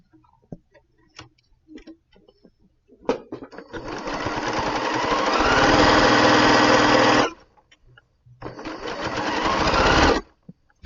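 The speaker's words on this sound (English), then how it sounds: "So I'm just going to sew this." Sewing machine stitching a quilt block seam, running in two steady bursts of rapid mechanical stitching, the first long and building, the second shorter after a brief pause, with faint handling clicks beforehand.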